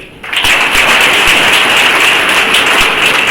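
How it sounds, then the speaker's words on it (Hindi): Audience applause at a business plan presentation for a marketing company: dense, steady clapping fills the room throughout, loud and close, with no talk over it. "एक बार और दिल से ताली हो जाए"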